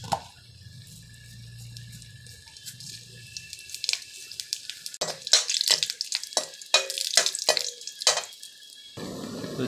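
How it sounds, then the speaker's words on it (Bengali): Green chili and cumin frying in hot oil, starting with a quiet low hum, then breaking into sharp, irregular bursts of sizzling and spattering that grow louder and denser toward the end. "গরম তেলের মধ্যে একটা লঙ্কাকে টুকরো করে দিয়ে দেবো"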